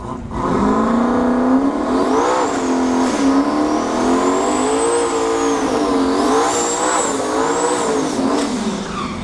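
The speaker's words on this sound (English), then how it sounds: "Nice burn out there." A turbocharged S10 drag car does a burnout at a drag strip, its engine screaming loud and sustained with shifting pitch and tire squeal riding over it for the whole stretch.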